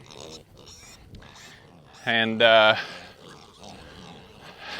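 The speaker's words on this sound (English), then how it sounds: "there's 32 pigs in here" Kunekune piglets in a pasture give soft grunts, with one louder squealing oink rising briefly in the middle, while someone talks over them nearby.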